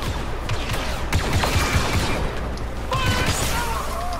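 Blaster fire in Star Wars Battlefront 2, with dense bursts of shots crackling over a loud, busy battle din throughout.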